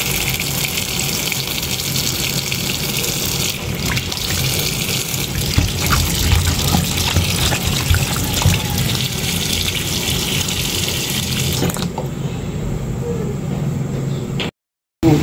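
Banana blossom being washed under a running kitchen tap, with a steady close gush of water splashing into the sink that cuts off briefly near the end.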